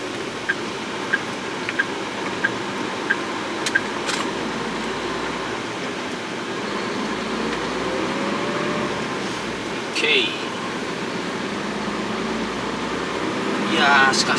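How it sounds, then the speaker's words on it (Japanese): Air conditioning blowing strongly inside a truck cab on a hot day, a steady broadband rush of airflow running throughout with soft clicks early on and a few brief noises over the constant hum. "ちょっとエアコン結構強めに入れてるんで、風切り音が入るかもわかんないですけど、エアコンの。"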